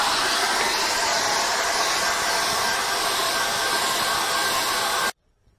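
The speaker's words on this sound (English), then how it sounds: "dry this off with a hairdryer" A handheld hair dryer drying an acrylic painting blows a loud, steady rushing hiss for about five seconds at close range, then cuts off abruptly into near silence.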